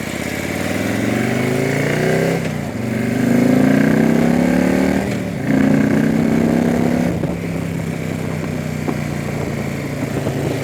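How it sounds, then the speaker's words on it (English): SE120R motorcycle engine accelerating nearby, rising revs through a few gear pulls with short dips between them, then easing into a steady drone, no voices. "This bike gets up and going quickly."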